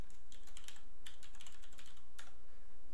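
Crisp clusters of computer keyboard keystrokes sound close up, several quick bursts of clicking separated by short gaps over a steady low hum, with no voice.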